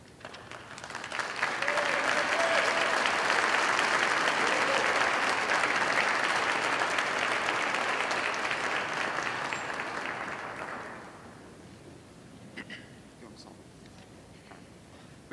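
An honor society induction audience in a high school setting bursts into sustained applause, dense even clapping holding for about ten seconds before fading to scattered claps and quiet room noise.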